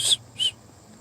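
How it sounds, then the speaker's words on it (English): A man makes a failed attempt at whistling: two short, breathy, high-pitched puffs, close and fairly loud, separated by a brief pause. "Man, I can't whistle."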